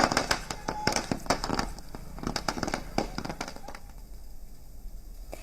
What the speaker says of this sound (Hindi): पटाखे फोड़े जा रहे हैं